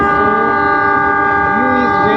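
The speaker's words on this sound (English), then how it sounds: "and the train is moving." A train moves past near a national park, giving a loud sustained horn-like tonal drone with rumbling underneath, close and steady throughout.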